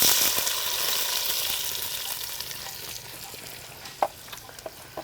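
Chopped onions fry in hot oil on a wood-fired village stove, a loud, dense sizzle that slowly settles, with a few close stirring scrapes and clinks near the end and no talk.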